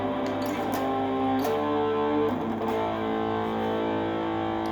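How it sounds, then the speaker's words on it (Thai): Distorted electric guitar through a Dyna Rate distortion pedal, playing sustained, gritty chords with a few pick attacks, steady and fairly loud with no voices. "ตัวนี้เป็น dynamic rate dyna rate distortion"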